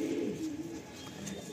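A Madrasi pigeon coos in a low, rolling call up close, one sustained bout that fades slightly toward the end.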